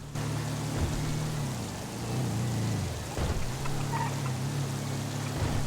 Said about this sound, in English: I think it's been raining for like 4 or 5 hours.